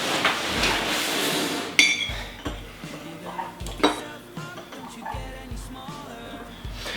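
Spoons and dishes clink and clatter at close range, with repeated metallic knocks and rattles arriving in uneven bursts, loud and busy throughout.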